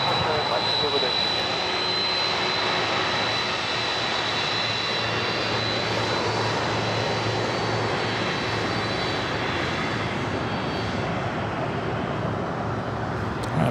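Jet airliner taxiing and turning on taxiway Alpha at LAX, a steady broadband engine roar with a thin high whine, continuous and fairly close, with voices talking over it.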